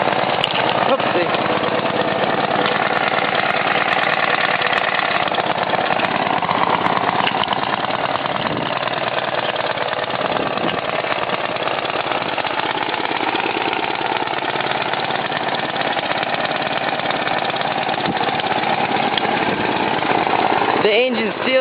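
A John Deere 60 tractor engine idles steadily after a cold start, a loud, continuous rough rumble running the whole time, close by, with a brief surge near the end.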